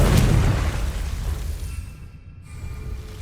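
A Confringo fire spell explosion in the video game Hogwarts Legacy, set in a dark herbology corridor: one loud, booming blast up front that rolls off into a fading rumble and a quiet tail.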